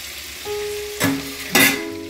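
Tomato dropped into spice paste frying in oil in a pan, giving a steady loud sizzle with two sharp bursts of hissing as pieces hit the hot oil, close up and without talk.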